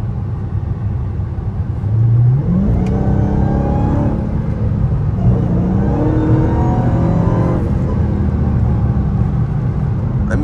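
A 2022 Dodge Hellcat Redeye on bald tires makes full acceleration pulls, its loud engine note climbing steadily in pitch through gears, with a brief dip between surges.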